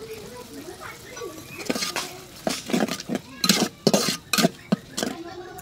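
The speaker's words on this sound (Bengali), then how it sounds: "এখন আমি চিংড়ি মাছ দিয়ে দেবো।" Shrimp going into a pan of cooked spices and being stirred, a run of loud metallic scrapes and clinks from a utensil against the pan, rising in intensity, with no talking.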